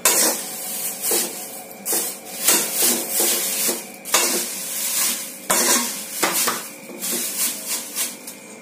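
Dal and curry leaves fry in a pan for a curry leaf powder, with steady scraping and stirring strokes of a utensil and a soft sizzle underneath, close and fairly loud, with no talking.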